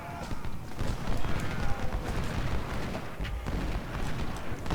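Rumbling 24-pounder cannon artillery fire in the Civil War strategy game Ultimate General: Civil War, a dense, continuous barrage of booms and crackling shots at steady loudness throughout.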